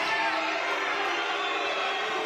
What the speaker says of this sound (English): Crowd kind of getting on Khegai